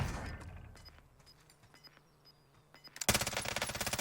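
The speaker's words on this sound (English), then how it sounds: "These guys are shooting" Automatic gunfire in Warzone opens with a burst of shots, goes quiet apart from scattered clicks, then erupts into a loud, rapid rattling stream of rounds near the end.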